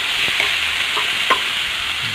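Tomato, garlic, ginger and onion sauté with mayamaya fish in a pan, a steady soft sizzle with a few light stirring scrapes and clicks, close and alone.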